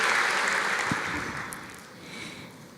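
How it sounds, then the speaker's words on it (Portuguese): A church congregation claps together in a dense burst of applause that gradually fades, with a faint voice underneath. "Glória a Deus, vamos aplaudir ao Senhor."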